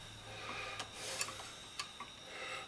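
Screws being turned by hand on an old tape recorder give faint rubbing, rasping scrapes with a few soft clicks over a steady low hum, close up and quiet.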